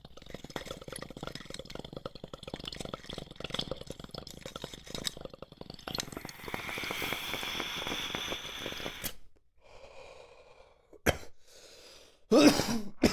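A person coughs after taking a dab, with a long stretch of rough, repeated throat-clearing coughs, then a quiet gap and two more short, sharp bursts near the end.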